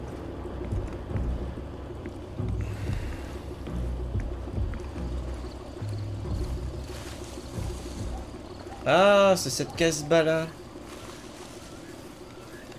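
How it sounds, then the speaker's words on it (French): A ship engine rumbles steadily in the distance in the video game Far Cry 2, a low continuous drone running under a man's speech, with a brief louder burst of sound near the end. "Alors qu'on entend tourner au loin un moteur d'un navire."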